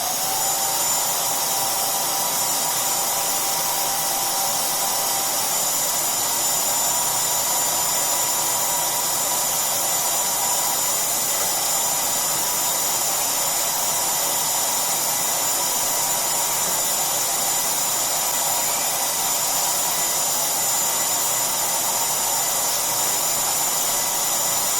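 A homemade workshop vacuum cleaner attachment runs continuously with a steady, loud whooshing hiss and motor whine, unbroken and close, with no talking.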